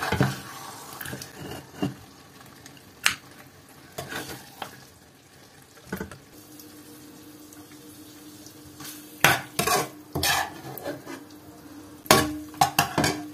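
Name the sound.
transferring marinated mutton into a pressure cooker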